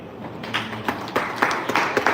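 Scattered clapping from an audience at a live network marketing event, with uneven, sparse claps coming in loose bursts rather than a full, dense round of applause.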